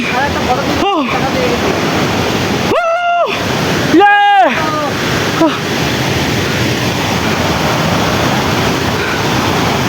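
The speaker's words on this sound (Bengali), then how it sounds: "পেয়ে গেছি ঝর্ণা পেয়ে গেছি" A mountain waterfall near Darjeeling roars in a steady, loud rush of water, and a few brief voices cut through over the constant spray.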